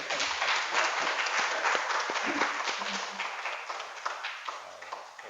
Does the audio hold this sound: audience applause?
yes